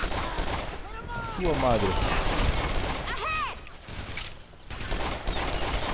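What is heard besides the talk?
gunfire in the video game Call of Juarez The Cartel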